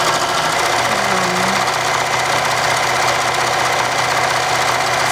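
A sewing machine runs continuously while stitching a purse handle through thick, bulky fabric, making a steady close mechanical whir with a fine rapid pulse, and no one speaks.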